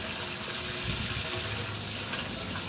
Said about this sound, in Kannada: ಆಫ್ ಮಾಡಿ ಆಫ್ ಮಾಡಿ, ನೀರು ಆಫ್ ಮಾಡಿ.